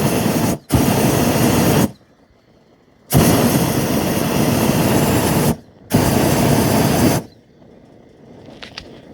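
Wind gusts buffeting the microphone during a hot-air balloon flight in a Cameron Balloons Superlight Sport 70: loud roaring bursts of rushing air broken by sudden quiet gaps, then fading to a calmer hush at the end.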